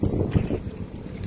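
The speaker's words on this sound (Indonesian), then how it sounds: "Mudah-mudahan suara saya jelas karena sedikit angin di sini di tempat kami." Wind buffets a microphone outdoors at a fish-farming pond, a steady low rumble with gusty swells and no voices.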